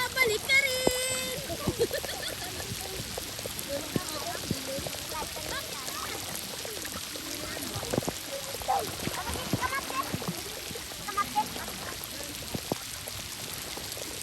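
Rain patters and splashes steadily on the sea at a beach in Kirishima, Japan, a soft continuous wash with scattered droplet sounds, while voices talk nearby.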